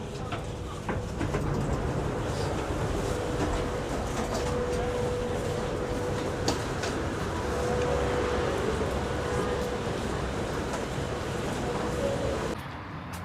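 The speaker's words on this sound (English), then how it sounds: "Please mind the gap between train and platform" A metro train runs through Lat Phrao station in Bangkok with a steady, continuous rumble and hiss for most of the stretch. Near the end it quiets slightly.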